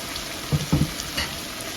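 Chopped carrots fry in hot oil in a pan for pulao, giving a steady close sizzle with a couple of soft stirring knocks.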